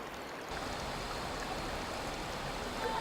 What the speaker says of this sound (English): the water is free and soars up towards the sky